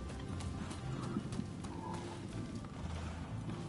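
Horse hooves clip-clop steadily in the video game Rise of the Ronin, a soft continuous clatter set low under a busy game ambience with faint bird-like calls, no talk over it.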